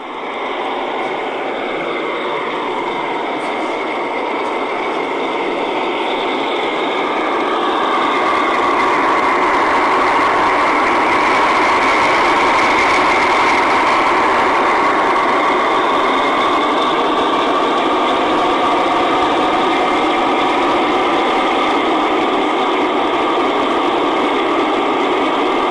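A Märklin gauge 1 model V320 diesel locomotive, weighing 9.2 kg and 72 cm long, in modern Epoch 6 livery as a construction-train engine, runs at a gauge 1 model railway meet in Munich, giving a steady whirring drone that grows louder midway, with no talk.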